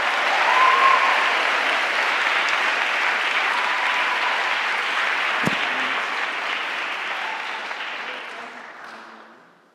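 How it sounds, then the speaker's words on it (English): A school athletic award ceremony audience claps in sustained, dense applause that holds steady for several seconds and then fades out, with one sharp knock partway through. "Please join me in one more round of applause for the honorable mention all ISL team."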